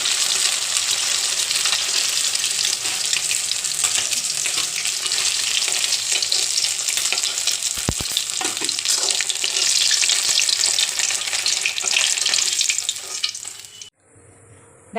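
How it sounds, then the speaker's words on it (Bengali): Fish frying in oil, a loud, continuous crackling sizzle with occasional stirring, cutting out near the end. "ভালো করে মাছটা ভেজে নেবো দেখো মাছটা পুরো লাল লাল করে ভেজে নিয়েছি"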